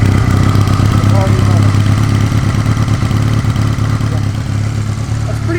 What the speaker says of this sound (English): This is what every carbureted bike should fire up like right here.